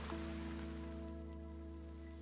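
Soft rain patters on a street in a cutesy video game, a light hiss of drops that thins and fades beneath a sustained, calm musical tone.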